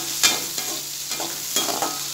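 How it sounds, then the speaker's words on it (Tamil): Onion and garlic sautéing toward golden brown in a pan for tomato chutney, a soft continuous sizzle with a few brisk scraping stirs spaced out over a couple of seconds. "இது நல்லா ஒரு கோல்டன் ப்ரௌன் கலர் வர்ற வரைக்கும் நல்லா வதக்கிக்கணும்"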